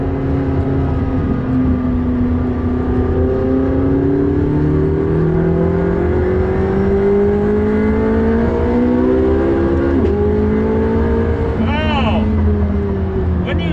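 A McLaren 675LT engine climbs steadily under hard acceleration, its pitch rising through the gears heard from inside the cabin, loud and sustained, with a gear change near the end.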